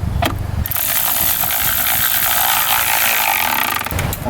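Ratchet tightening the battery hold-down on a 2002-2010 Ford Explorer, giving a steady, close, dense mechanical clicking that runs almost unbroken for about three seconds, with no talk.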